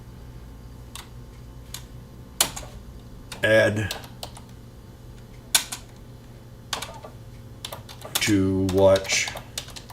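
Steady, rapid clicking of keys on a computer keyboard runs throughout at close range, with a voice speaking briefly over it twice.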